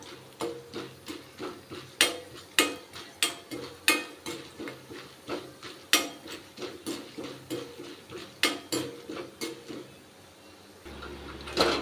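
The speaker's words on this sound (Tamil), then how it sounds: "ரெண்டு ஸ்பூன் அளவுக்கு கடலைப்பருப்பு போட்டுக்கிறேன் இது கொஞ்சம் செவந்து வர வரைக்கும் நம்ம வறுத்துக்கலாம்" Chana dal roasting in oil in a pan, two spoonfuls stirred until golden: a quick run of metallic spoon scrapes and clinks over a soft sizzle, thinning out before a brief quiet stretch.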